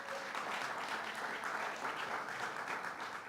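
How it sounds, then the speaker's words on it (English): An audience applauds the Secretary of State at a New York governor's executive order event, a faint, steady wash of clapping heard from a distance for a few seconds. "Let's give him a round of applause."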